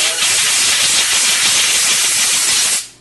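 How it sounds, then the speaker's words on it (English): A pressurized air line from an air compressor blasts into a gun barrel bore, giving a loud, close, continuous hiss that lasts nearly three seconds before cutting off abruptly. "I just take a pressurized air line with a fitting on it"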